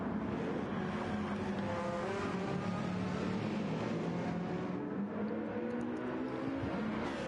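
Steady droning engines of race cars in a racing video game, a continuous layered whine with shifting pitch, loud and unbroken throughout.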